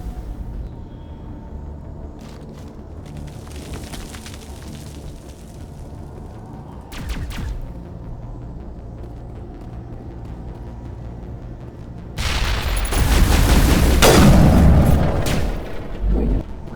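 Gunfire in Mass Effect Legendary Edition starts as faint, sparse shots over a quiet background, then swells into a loud, dense burst of booming fire near the end.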